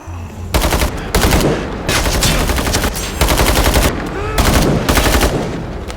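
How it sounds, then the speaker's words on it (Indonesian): Rapid automatic gunfire rings out in a film action scene, coming in four loud, dense bursts with brief gaps between them. "Tiba-tiba Zircon menembak."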